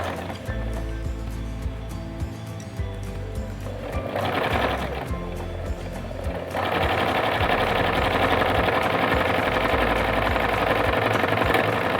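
Sewing machine stitching trouser fabric in a steady fast mechanical chatter, close and continuous, speeding up and growing louder partway through.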